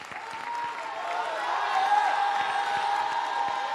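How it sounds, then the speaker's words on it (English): A church congregation at an all-night prayer gathering claps hands together in a dense, sustained wash of applause that swells slightly, with scattered shouts and voices mixed in. "Well, clap your hands, all ye people."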